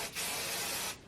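Hair spray hisses from an aerosol can in one steady burst of about a second onto a section of hair being set for curling, close to the mic and alone.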